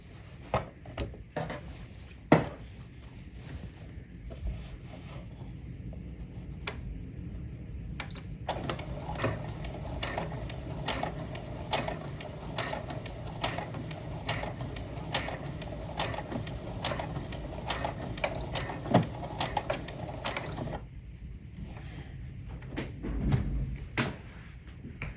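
A sewing machine stitches a dinosaur apron in a long steady run of rapid mechanical stitching, with a few clicks and knocks before and after, close by and moderately loud.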